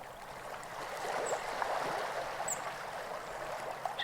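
A river stream flows through a forest, its soft, continuous rushing and trickling water faint and even, with no voices.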